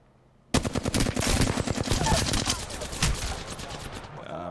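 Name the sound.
gunfire in the video game Apex Legends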